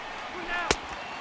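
In MLB The Show 18, a pitch smacks sharply into the catcher's mitt, a single loud pop over a soft stadium murmur, with a voice talking faintly beforehand.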